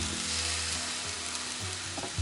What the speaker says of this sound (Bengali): পেঁয়াজটা একটু ভাজা ভাজা হয়েছে, এখানে আদা রসুনের পেস্ট রয়েছে সেটাকেও দিয়ে দিচ্ছি।